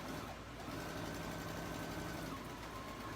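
A sewing machine stitches steadily with a 1/4 inch foot, a continuous quiet whirring hum with a faint tonal whine, close and unbroken for a few seconds.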